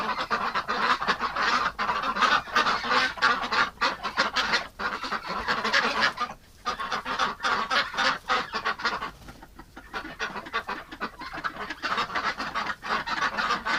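Ducks wintering in a barn quack and honk loudly and almost without pause, a dense, overlapping chorus with only brief lulls. No one speaks.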